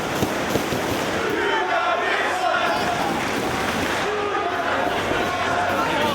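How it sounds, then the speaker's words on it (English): A Chicago wrestling crowd jeers at a heel, loud dense crowd noise with shouting and booing that fills the arena throughout, with a commentator talking over it. "And the crowd here in Chicago letting him hear it."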